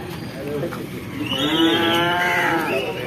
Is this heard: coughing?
no